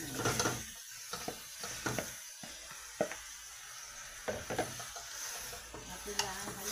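Pork drops into a pan of sautéed garlic and onion, giving a soft, steady sizzle broken by scraping stirs and utensil clinks close by.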